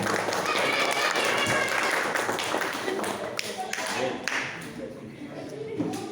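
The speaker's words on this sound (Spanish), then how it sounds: "Un aplauso para todos." A group claps together at the end of a Bible study course, dense and sustained applause that fades slightly toward the end, with some voices mixed in.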